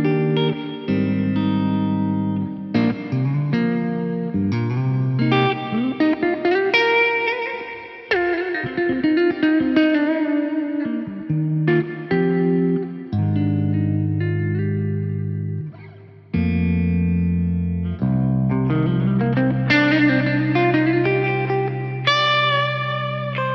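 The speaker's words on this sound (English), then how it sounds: "The reverb tails on there are gorgeous." A PRS SC245 electric guitar in the middle pickup position, blending clean and distorted tones, plays a melodic passage with chords and single notes, each phrase trailing off in lush reverb tails. No talking.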